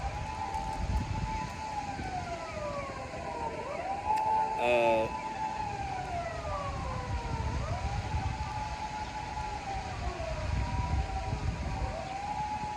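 Ambulance siren wailing in repeated rising and falling sweeps, fairly distant over low traffic rumble, with a brief louder honk or horn blast partway through.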